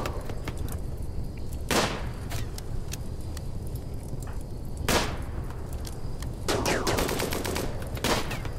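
Scattered gunfire in the colony-building game Rimworld during shooting practice: several sharp isolated shots and a short quick cluster, spaced a few seconds apart over a constant background hum.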